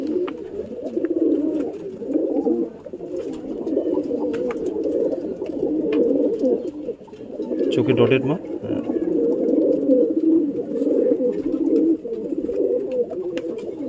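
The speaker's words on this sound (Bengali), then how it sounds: "তো আপনাদেরকে একটা পায়রা দেখাই, ঘরের বাচ্চা, পাঠা হয়েছে।" A young domestic pigeon coos softly and repeatedly close by, its low throaty calls running steadily under someone talking.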